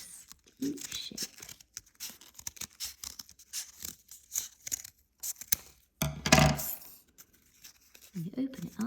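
Scissors cut a leaf shape from paper for a craft daffodil, with soft crisp snips and crinkling close by, mixed with a person talking.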